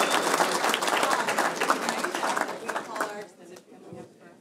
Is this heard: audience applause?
yes